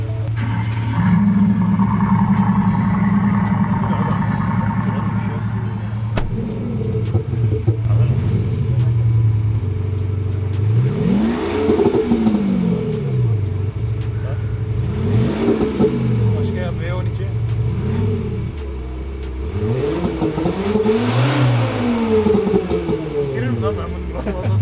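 A Ford Ranger Raptor pickup truck engine revs repeatedly in rising and falling surges, loud and close, with a steady low rumble underneath and people talking over it.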